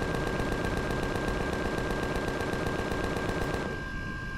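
Sustained rapid automatic gunfire from drone base turrets in the video game Empyrion, a dense steady stream of shots lasting several seconds before cutting off, loud and continuous with no talk.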